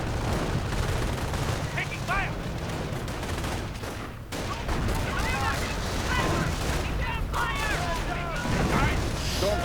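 Gunfire from a strategy war game as an anti-tank gun crew is wiped out, with dense bursts of rifle and machine-gun shots and scattered booms over a constant battle din, loud and continuous, beneath a commentator's voice.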